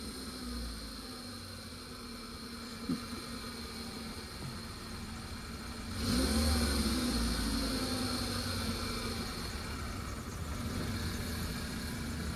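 A car engine idles steadily, then rises in a light rev as the clutch is half-engaged and the accelerator pressed gently to ease the car over a stone under the tyre; a continuous low rumble with no talk.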